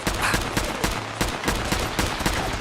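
Fallout 4 bunker turrets firing at close range, rapid bursts of loud gunfire repeating in a steady rhythm throughout, with no talk over it.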